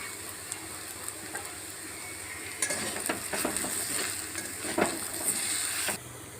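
Pumpkin leaves being stirred with gram flour in a hot pan give a steady sizzling hiss, with scattered scrapes and clinks of the spatula over a continuous background, no talking.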